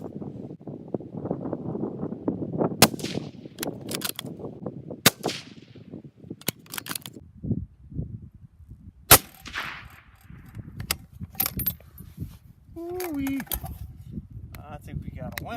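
Rifle shots with handloaded reload ammunition at a long-range shooting day out to 500 yards, several sharp isolated cracks spaced seconds apart over wind noise and someone talking.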